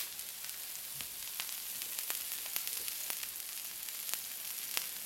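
A beef steak fries in a pan with herb butter added underneath, giving a steady, quiet sizzle with dense crackling pops and no talking.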